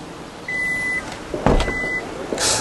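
A Hyundai Ioniq 5 trunk gives a fairly loud motorized whir as it unlatches, followed by a clunk and a second motor whine as the lid opens, heard up close with no talk.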